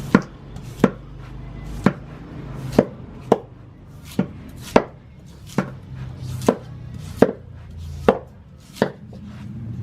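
Bolo knife chopping into a young buko coconut in the Philippines, about a dozen sharp, separate whacks in an uneven rhythm, close and clear over a low background hum, with no talking.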